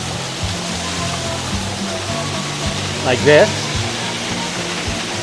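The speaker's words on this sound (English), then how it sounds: "Now another really cool shot is actually this waterfall here" Waterfall beside the Tree of Life at Disney's Animal Kingdom pours in a constant loud rushing wash that persists throughout, with someone briefly speaking over it.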